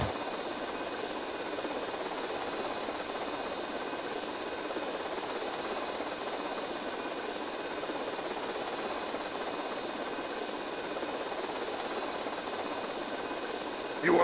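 A steady whirring engine drone with a faint high hum runs without a break, even and moderately loud, like a hovering helicopter in GTA Vice City.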